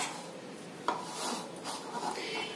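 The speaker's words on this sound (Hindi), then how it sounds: "और अब मैं इसमें ये मैश किया हुआ आलू ले लूंगी। इसे अच्छे से मिक्स कर लेंगे।" A utensil mixes mashed potato into a leftover rice cutlet mixture in a home kitchen, producing soft scraping and rubbing strokes with one sharper knock against the bowl, close and fairly quiet.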